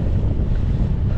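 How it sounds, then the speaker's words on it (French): Strong wind blowing at the ocean shore, a steady low roaring rumble of gusts buffeting close against the microphone, with surf noise mixed underneath and no voices. "mais il y a bien du vent"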